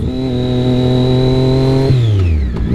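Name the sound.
motorcycle engine revs during downshift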